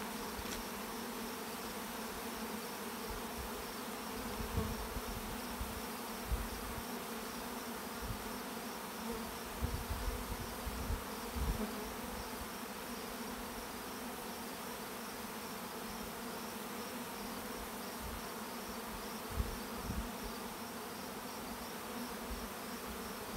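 A continuous hum of many honeybees buzzing close by around a hive, a dense, steady drone with occasional louder passes and faint thumps.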